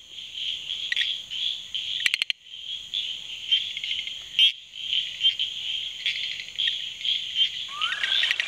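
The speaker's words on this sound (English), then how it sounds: "people were just amazed by the variety of sounds that frogs made" Several frogs call through the night in a steady chorus of pulsing trills and chirps, with brief louder clicks and a faint rising call near the end; no voices.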